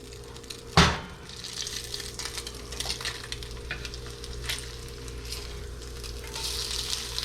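Shredded potatoes frying in a pan: a steady close sizzle and crackle, with a sharp clatter near the start like a spatula turning them over, then lighter scraping and stirring sounds.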